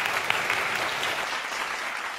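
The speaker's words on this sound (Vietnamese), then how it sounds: "Xin mời mọi người dành một tràng pháo tay để chúc may mắn cho cả năm cô." Loud, dense applause from a studio audience at a Vietnamese TV dating show, steady clapping that fills the whole moment without letting up.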